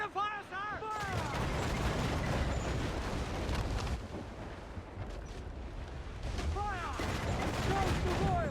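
Ship cannons in Assassin's Creed IV: Black Flag boom out in dense, rumbling volleys during a naval battle, shots overlapping into a sustained barrage amid shouted crew voices.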